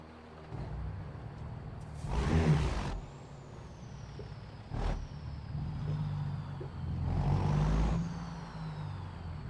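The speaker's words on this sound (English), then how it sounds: "Now the engine itself sounds the same." A heavy truck engine hums steadily in American Truck Simulator, with sharp air-brake hisses bursting in twice and a faint high whine riding over the low rumble.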